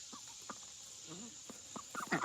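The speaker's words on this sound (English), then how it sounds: "You can hear the ducks chattering here." Farmyard ducks chatter faintly off to one side of a homestead garden. Short, scattered quacking calls sit over a steady thin background hiss.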